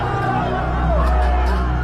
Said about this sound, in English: The crowd gathered outside the Capitol lawn gets more aggressive and pushes through barricades guarded by Capitol police officers.